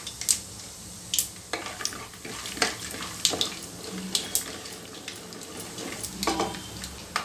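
Peanuts go into hot oil with chana dal already fried for avalakki chitranna. Irregular sharp pops and crackles burst up close over a soft bubbling background, with no voices.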